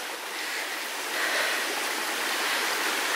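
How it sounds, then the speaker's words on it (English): Stream water rushing down a wooded combe on the Holford hike in the Quantock Hills, a steady close broadband babble and splash that swells slightly midway, with no voices. "The sound of the water."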